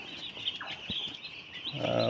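Broiler chickens on a small poultry farm cluck softly and chirp in the background, a few faint calls over a steady low hum, with no talk.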